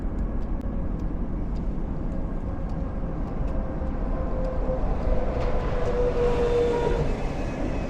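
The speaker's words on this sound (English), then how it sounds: "You hear some trains rumbling above us." A steady, heavy rumble of trains passing overhead on a drawbridge over the Gowanus Canal in Brooklyn fills the whole stretch, loud and continuous, with a thin metallic squeal rising near the end.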